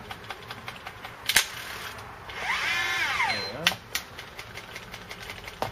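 An electric motor spool on an electric reel spins during a test run, giving a rising and falling whir with brief mechanical clicks and taps around it, fairly close and moderately loud.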